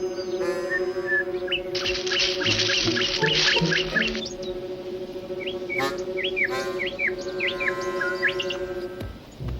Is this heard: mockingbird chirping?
yes